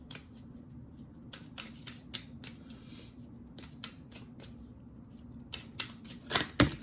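A deck of tarot cards is shuffled and cards are drawn, giving soft, close riffling and slapping flicks in irregular bursts over a low hum, with a couple of sharper snaps at the end.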